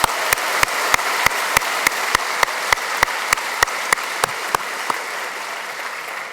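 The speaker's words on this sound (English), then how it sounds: "round of applause from everybody in here." An audience in a university engineering plenary lecture hall applauds, with a steady wash of clapping punctuated by sharp, evenly spaced rhythmic claps across several seconds.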